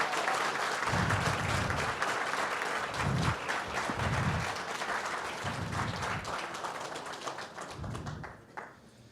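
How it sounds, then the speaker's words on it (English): An audience applauds as US Senator Cory Booker is welcomed to the stage, sustained clapping from a room of people, fairly loud, with low thumps mixed in and fading slightly at the end. "Let's give them both a round of applause."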